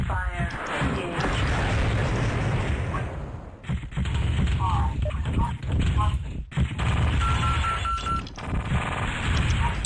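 Grouped mech weapons firing in MechWarrior 2, dense rapid volleys of gunfire and booming shots, loud and near, with brief gaps between bursts and an electronic tone underneath.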